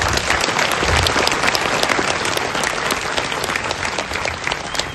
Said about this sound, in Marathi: एकदा तुम्हाला सर्वांसाठी शिवभक्तांसाठी जोरात टाळ्या होत्या